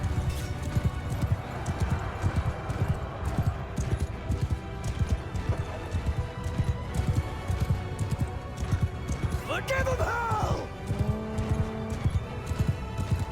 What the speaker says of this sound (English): In comes our heavy cav. We are trampling everything.